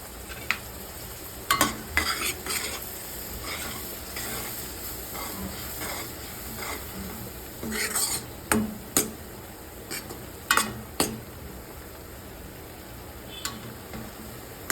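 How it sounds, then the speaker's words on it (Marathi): Masala gravy is roasted and stirred in a pan for dubuk vadi, a soft continuous sizzle under repeated sharp scraping clicks of a spoon against the pan at an irregular pace. "डुबुक वड्यासाठी ही आपण चांगली मसाला ग्रेव्हीसाठी चांगला छान असा भाजून घेत आहोत."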